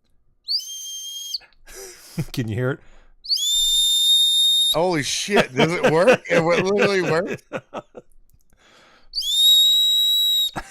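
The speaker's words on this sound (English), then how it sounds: "I did a little tiny whistle." Three bursts of a shrill, high whistle from a small 3D-printed whistle, each about a second long, separated by excited talking and laughter.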